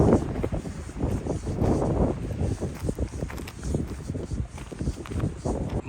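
Wind roars and buffets the microphone in uneven gusts on a mountain hiking trail near Three Fingered Jack, rising and falling in waves with low rumbling bursts throughout.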